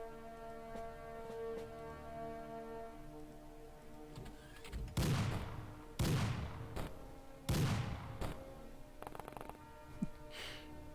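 Gunfire in the turn-based strategy game The X-Com Files: a few heavy, booming shot bursts in the middle of the stretch, fairly loud against a quiet musical background.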